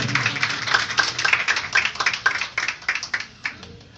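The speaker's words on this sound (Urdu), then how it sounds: "میں چاہوں گا خدا کے کلام کی آنر کرتے ہوئے زور سے تالیاں بجائیں۔" Applause from a church congregation during an Urdu sermon, a dense patter of many hands clapping fairly close and steady throughout, slowly thinning toward the end with no voices on top.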